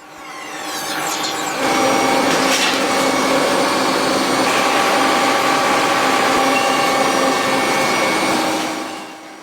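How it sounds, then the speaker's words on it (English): Rubber band cutting machine slicing bands in a Japanese factory, a steady loud mechanical whir with a dense grinding hum that starts abruptly, holds continuously and tails off near the end, with no voices. "Bands are sliced with precision, ensuring consistent width and thickness. Cutting machines can produce tens of thousands of bands per hour."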